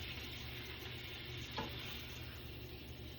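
Collard greens fry in a pan, a continuous soft sizzle with one brief stirring scrape near the middle and no talking.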